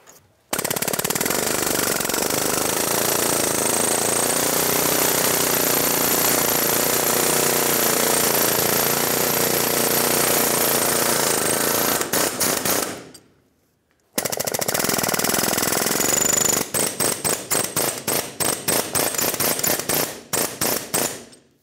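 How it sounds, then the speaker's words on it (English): Loud, continuous pneumatic hammering of an air chisel on a rusted steering rack mounting part of a 1996-2002 Toyota 4Runner, a brief pause, then more rapid bursts of chattering blows, close up. "I'm going to use an air chisel and just gently try to vibrate it"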